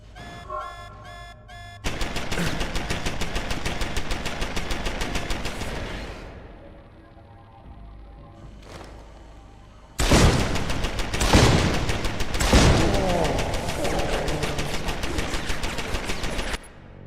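Automated turret machine gun in Deus Ex: Human Revolution firing long, rapid sustained bursts, loud and close, with a brief quieter pause midway before a second heavy stretch of fire.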